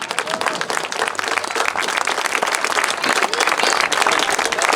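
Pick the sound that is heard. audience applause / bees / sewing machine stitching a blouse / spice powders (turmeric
audience applause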